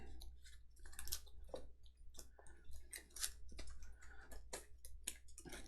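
Large Kingdom Death Monster cards being shuffled by hand at a tabletop, giving a steady run of soft riffling clicks and flicks, close and moderately quiet, with no talking.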